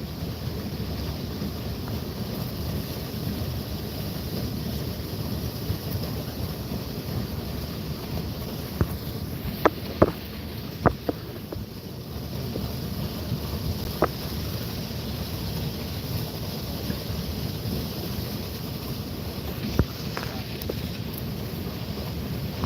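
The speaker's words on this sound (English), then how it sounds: "I'm definitely gaining a lot of inner peace by listening to the flow of the water" Water flowing steadily outdoors, heard as a constant broadband rush mixed with wind, broken by a few sharp clicks and taps.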